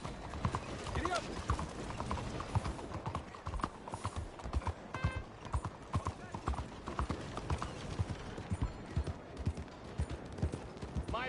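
Hooves of a horse in a PS4 video game clip-clop in a quick, steady galloping rhythm, loud and continuous, with faint mechanical game sounds in the background.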